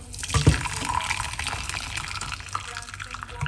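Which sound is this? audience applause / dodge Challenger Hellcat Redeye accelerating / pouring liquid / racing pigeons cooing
pouring liquid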